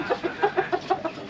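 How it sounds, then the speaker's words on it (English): A chicken clucks in a dark, enclosed spot deep inside a Central Jakarta neighbourhood, giving a quick run of about eight rhythmic clucks, close and clear with no talking. "Oh, there's a chicken here."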